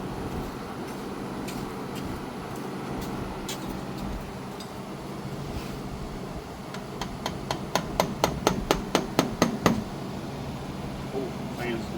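Sharp metal hammer blows, about a dozen in an accelerating run, strike a flathead screwdriver while working on a 1988-98 Chevy C1500 fitted with 26-inch Rucci wheels, close and loud over a steady noisy background.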